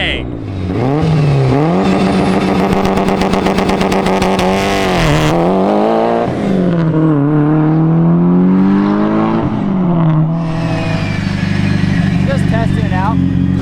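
A Mitsubishi Evo wagon engine revs hard, climbing and falling in pitch through several loud, close pulls and gear changes, with voices talking over it.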